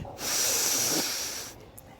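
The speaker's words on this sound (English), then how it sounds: "I can make the sound of the breathing like inhale" One strong, hissing inhale drawn through the nose and throat, close and breathy, lasting over a second before fading.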